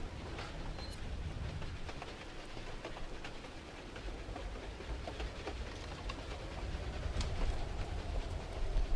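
A moving train wagon rumbles steadily in the Tomb Raider: Biohazard custom level, a low continuous rolling drone with faint rattles and a slight swell toward the end, no voices.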